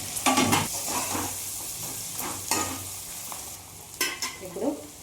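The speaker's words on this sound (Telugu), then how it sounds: "ఇప్పుడు పసుపు వేసుకుందాం. ఇలా కొంచెం మగ్గాలి ఉల్లిపాయ" Sliced onions and turmeric sizzle steadily in a hot oiled pan while a spoon stirs them, with scraping strokes against the metal rising above the constant frying hiss.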